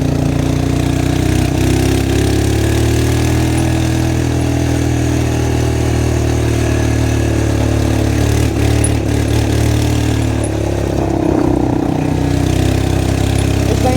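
A four-wheeler ATV engine, comparable to a pit bike, runs steadily and loudly close by, a continuous buzzing drone with slight surges and no pauses.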